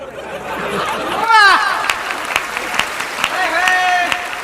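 An audience at a Hindi comedy poetry show (hasya kavi sammelan) breaks into applause and chatter with some laughter, while a voice talks over the crowd noise.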